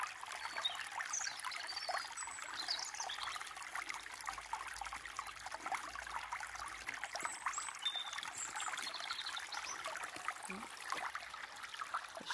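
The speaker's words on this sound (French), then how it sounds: "je termine cette vidéo avec le son du ruisseau ici" A small stream babbles and trickles steadily nearby, a soft, continuous watery gurgle with faint bird chirps over it and no talking.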